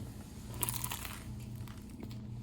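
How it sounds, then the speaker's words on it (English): A crunchy bite into food, likely pizza or a plain bagel, eaten at the Philadelphia Zoo, with a crisp burst of crackle near the start and faint chewing crunches after, close up over steady outdoor background noise. "Nice crunch."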